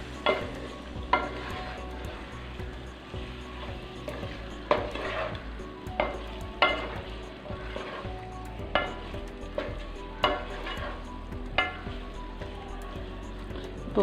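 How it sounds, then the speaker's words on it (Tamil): Potatoes mixed with masala in a pan over a low flame, a soft continuous sizzle broken by repeated sharp scrapes and knocks of a spoon against the pan at a loose, regular rhythm. "இப்போ இது நல்லா மசாலாவோடு மிக்ஸ் பண்ணிடணும்."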